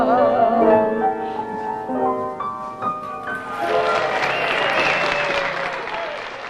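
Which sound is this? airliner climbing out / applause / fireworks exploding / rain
applause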